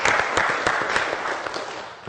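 Audience applause fills a church stage at an evangelical community event, a steady wash of clapping with a few sharper individual claps standing out, fairly loud and continuous with no talk.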